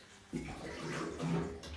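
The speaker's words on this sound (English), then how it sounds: "Gonna top it up with a little bit of water so that it blends nicely." Water poured from close by into a smoothie blender jug already holding apple, raspberry and hemp, a soft splashing trickle that swells after a quiet start and runs on continuously at low volume.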